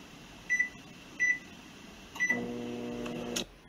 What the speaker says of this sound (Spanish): Coloque en el microondas entre 45 segundos a 1 minuto. Lo voy a poner por 50 segundos.